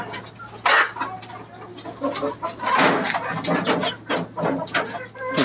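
Domestic chickens clucking with pigeons on a small farm, a steady mix of short calls and coos under faint background noise, with occasional distant voices.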